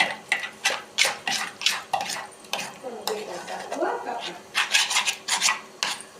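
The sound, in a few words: stirring dhokla batter with soda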